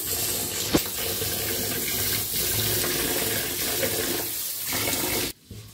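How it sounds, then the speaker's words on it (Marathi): Water runs steadily from a tap into a vessel of rice being rinsed, swishing and splashing for several seconds before cutting off abruptly. "तांदूळ घेतले आता स्वच्छला धुवून घेऊया आपण। पाण्याने धुवायचा।"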